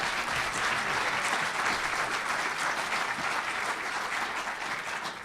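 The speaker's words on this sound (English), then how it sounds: "how about a round of applause for that?" An audience at a city presentation in Hager Hall claps steadily for several seconds, a dense, even round of applause that tapers slightly toward the end.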